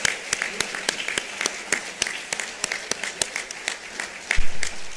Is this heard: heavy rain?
no